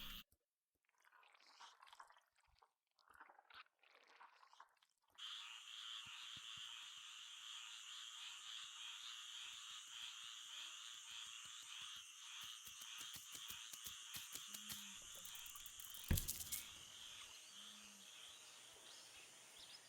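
Toads croak in a night swamp in the Empires of the Undergrowth video game, heard as a dense, steady chorus of rasping calls over a wet ambience, with a few lower croaks standing out near the end.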